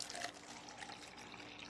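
Warm water pours into a container during a luster dipping process, a soft continuous trickle and splash heard faintly and close, with no talk over it.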